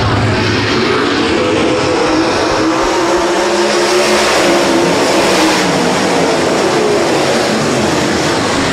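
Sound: race cars taking the green flag at Rapid Speedway

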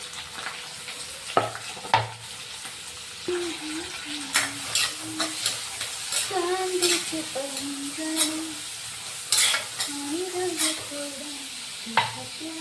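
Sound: curry leaves, onion and tomato frying in a pan

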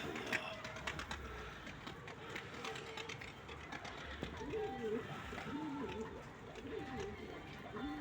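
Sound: young pigeons cooing

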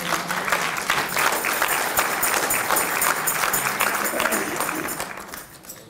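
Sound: audience applause

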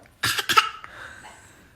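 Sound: child imitating a cough

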